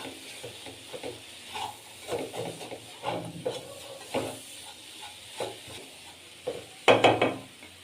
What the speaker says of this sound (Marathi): हे सारण तयार करत असताना एक एक दोन दोन सेकंदाला हे सारण हलवून घ्यायचं आहे